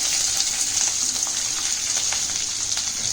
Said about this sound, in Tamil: போட்டுட்டு இது நல்லா வதக்கி விடலாங்க.